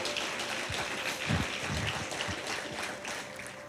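A church congregation applauds in a soft, scattered patter of clapping that sounds fairly distant and steady, with a faint tone held in the background.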